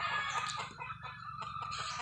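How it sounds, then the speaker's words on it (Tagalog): A rooster crows twice in quick succession, fairly clear but at moderate distance, with no one speaking over it. "Yang pagtitilaok ng manok,"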